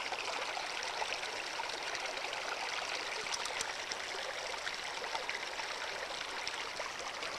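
Water rushing steadily through a gold sluice box, a continuous bright hissing flow with fine trickling detail, close and even throughout with no voices.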